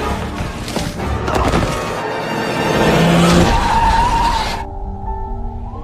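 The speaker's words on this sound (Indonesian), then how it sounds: "ia tersandung sampai ia terjatuh ke jalan dan tertabrak mobil hingga tewas" Car in a horror film about a killer doll skids with loud tire screeching, then a heavy thud as it strikes a person, followed by a low ringing tone.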